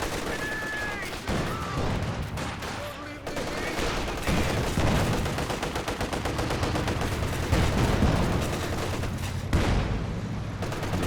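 Artillery barrage landing in Company of Heroes 2, a World War II strategy game: dense, continuous rattling blasts and gunfire, loud and close, with a commentator talking over much of it.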